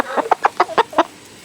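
Backyard hens in molt cluck in a quick series of six or seven close, loud bursts at an irregular, choppy rhythm, with no voices over them.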